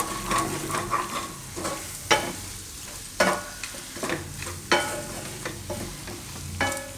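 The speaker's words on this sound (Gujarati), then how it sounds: "હવે મિક્સ કરીશું. થોડીક વાર મસાલો પકાવી લેવાના આમાં." Masala spices with red chilli, Kashmiri and hot, stirred and frying in a pan for methi bhaji gravy: a soft sizzle under repeated sharp scraping strokes of a spoon against the pan.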